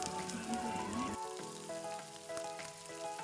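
Soy sauce hitting a pan of frying cabbage with carrots and onion for Filipino ginisang repolyo, a steady close sizzle with a sharp shift as the liquid goes in, stirring clatter throughout.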